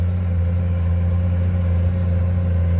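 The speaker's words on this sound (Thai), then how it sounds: "เสียง เครื่องยนต์" A Komatsu PC210-10MO excavator engine drones at a steady, even pitch, close and loud, a smooth unbroken hum with no voices over it.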